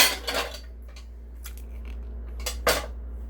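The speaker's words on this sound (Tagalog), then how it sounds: "maghuhugas na po tayo ng pinggan bago tayo umalis" Dishes are washed after a meal, with plates and cutlery clinking and scraping in a few scattered bursts over a steady low background hum.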